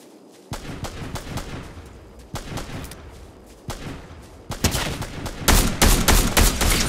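Rapid bursts of gunfire from the video game Fortnite, sharp repeated shots in quick clusters that grow louder and denser toward the end, with no talk.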